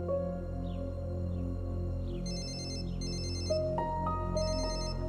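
A telephone rings indoors with a steady electronic ringtone, repeating short trilling bursts over a constant low background hum, fairly close and alone without voices.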